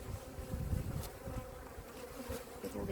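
Honeybees at an opened hive during a spring check, a dense close buzzing swarm droning continuously with individual bees passing near, no talk.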